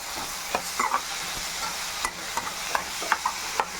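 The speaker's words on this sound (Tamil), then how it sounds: "அரை கிலோ எறாவையும் இதில் போட்டுக்கலாம் போட்டு வதக்கிக்கலாம்" Prawns sizzle quietly in a pan while a utensil stirs and scrapes, producing scattered clicks and light tapping over a soft frying hiss.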